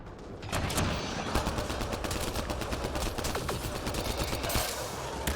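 Sustained, loud gunfire in the Mass Effect: Andromeda video game, with many overlapping shots and rapid bursts running continuously throughout.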